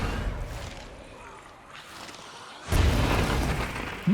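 Player-placed mines going off in State of Decay 2, a sudden loud burst after a quieter lull, the blast rolling on with a sustained rumbling roar in the distance.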